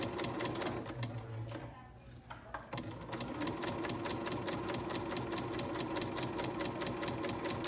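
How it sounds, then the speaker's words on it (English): A sewing machine back stitches near the end of a fabric piece for a sample organizer, running in a fast steady mechanical rhythm. It pauses briefly about two seconds in, then runs on close and even. "When I get to the end of the fabric, I'm going to go all the way to the end, back stitch 3 or 4 stitches"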